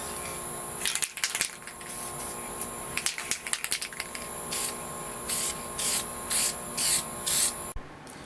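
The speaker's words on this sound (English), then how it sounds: "you want to back away from it a little bit more and spray a little bit lighter" Aerosol spray paint applied to Xbox 360 controller buttons in a series of short, even hisses, about six bursts in quick succession, close and clear over a faint background hum with scattered rubbing clicks.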